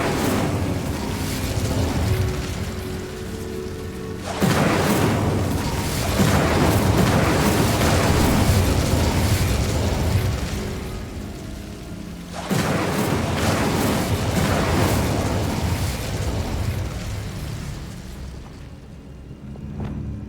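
Spell-casting explosions from Confringo and Incendio in the video game Hogwarts Legacy, a dense run of loud booming blasts in two long bursts with a brief lull between, rumbling continuously over game noise.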